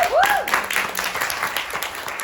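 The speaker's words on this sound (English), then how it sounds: "Everybody clap it up." An audience at a tech pitch competition in North Lawndale claps together, producing dense, steady applause that fills the room; a brief whistle rises at the start.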